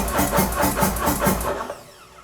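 Motorcycle starter cranks in a rapid, rhythmic whirring for about a second and a half, then cuts off into near quiet; close and fairly loud, no voices.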